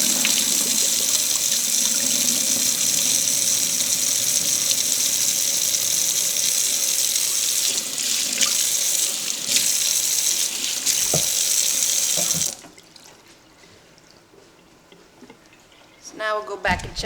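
Tap water runs steadily into a bowl as rice is rinsed clean, a continuous splashing gush for most of the stretch before it shuts off, leaving quiet with a few soft clinks and movements near the end.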